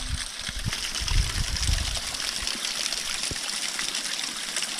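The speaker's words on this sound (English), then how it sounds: "Gonna fill my water bottle with some flowing spring water," Snow-melt spring water flows and trickles steadily outdoors while a water bottle is filled from it, a close, continuous watery rush with brief gurgling bursts near the start.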